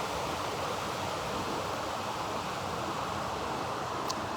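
A river flows decently past at a low autumn level, a steady broadband rush of moving water with no breaks, close and continuous throughout.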